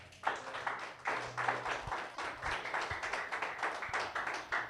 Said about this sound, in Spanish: Aplauso a Jesús.